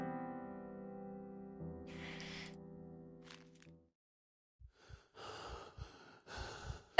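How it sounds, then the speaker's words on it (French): A character's tense breathing in the horror adventure game The Last Door, quiet and close, with slow drawn breaths over a low droning tone, then a pause and a few sharp, uneven gasps. "Dans le casque, la respiration comme ça, c'est très angoissant."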